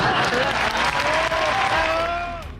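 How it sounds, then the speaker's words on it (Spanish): Dense audience applause fills a theatre after a gay dance company's performance. It sounds loud and continuous, with a voice speaking over the clapping that fades toward the end. "de veras un gran aplauso."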